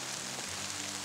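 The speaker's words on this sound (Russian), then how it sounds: "Светит солнце. Идет дождь." Rain falling steadily in a sunlit forest, a soft continuous hiss of drops with no distinct individual impacts, fairly close and even throughout.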